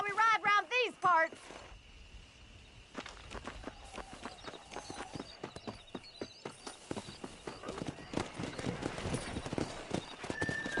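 A horse galloping in Red Dead Redemption, hooves pounding in a quick, steady rhythm that grows louder and denser, with a brief whinny and voices talking over the ride.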